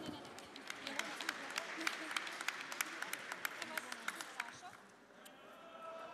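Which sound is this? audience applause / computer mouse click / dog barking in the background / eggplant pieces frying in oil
audience applause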